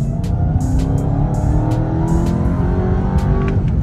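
A 2021 Dodge Charger Hellcat Redeye on street tires roars through a loud, steady high-powered engine run, with strong rumbling harmonics and a few sharp transient pops over the continuous drone.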